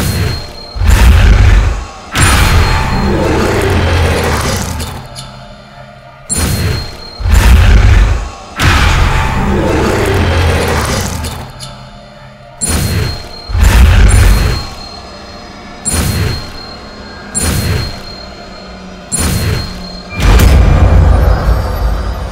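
Repeated Confringo spell blasts fired at targets in the Undercroft in Hogwarts Legacy, a series of loud booming explosions in irregular bursts, each with a whooshing tail, separated by short quiet gaps.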